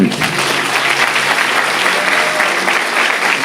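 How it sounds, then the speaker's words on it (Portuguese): A church congregation applauds together, a dense, even patter of many clapping hands that holds steady from start to finish without voices over it. "Pode aplaudir o Maranhão."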